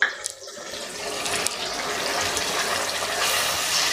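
Half a cup of water poured onto frying mutton keema, a sharp splash and then a rising, steady hiss of steam and bubbling, close and continuous for a few seconds without speech.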